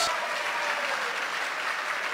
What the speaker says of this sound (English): if we could just give a round of applause for these candidates